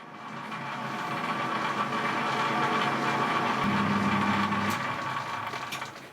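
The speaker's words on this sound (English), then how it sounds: "The machine's a lot noisier in back gear because obviously it's engaged an extra 2 gears in the head" A metal lathe runs in back gear with two extra gears engaged in the head, a steady loud mechanical hum and whine with a low gear drone that holds throughout.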